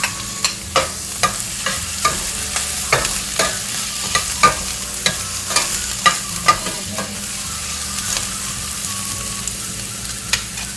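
Ginger and onion sauté in a pan for sweet and sour pork, a loud, constant sizzle close by, punctuated by regular sharp scrapes and taps of stirring.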